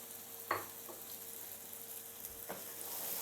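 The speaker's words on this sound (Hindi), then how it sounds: "अब जो है हम अपनी टोमेटो प्यूरी ऐड करेंगे इस स्टेज पर" Spices fried in a pan sizzle softly and steadily as tomato puree goes in for a mixed vegetable curry, with two or three distinct spoon knocks and scrapes, close and fairly quiet, no voices.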